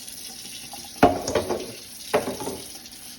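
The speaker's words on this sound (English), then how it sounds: "we got to wash our hands" Hands being washed under a running tap at a kitchen sink, with a steady faint water hiss and two louder splashing bursts as the hands move under the stream, no talking.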